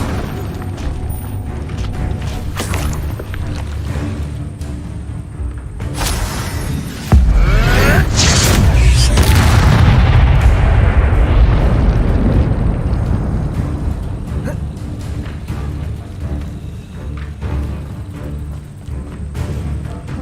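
An Incendio fire spell in Hogwarts Legacy bursts with a sudden loud whoosh and rumbling boom about seven seconds in, then fades into crackling roar over background game sound.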